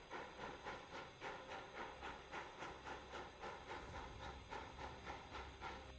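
A steam 4-4-0 locomotive in Train Sim Classic labours up a hill, its exhaust chuffing in a steady rhythmic beat over a constant hiss, quiet and evenly paced.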